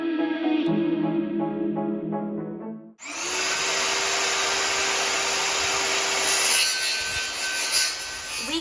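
Plywood being cut into 3-inch strips for a van ceiling. A humming tonal drone gives way to a loud, continuous, rough power-saw whine that runs steadily to the end.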